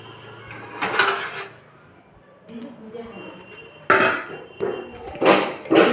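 A spoon and fork clatter into dishes in a kitchen, with a few sharp metallic clinks and clunks in separate bursts, close and fairly loud, while a voice talks over parts of it.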